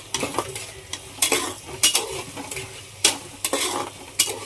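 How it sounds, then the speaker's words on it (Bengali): Crushed ginger and garlic fry in a pan under a soft sizzle while a metal spoon stirs and scrapes, producing repeated loud bursts of clatter at uneven intervals, close up and without talk. "এখানে আমি একে একে করে একটু একটু নেড়ে নেব আদা রসুনটা"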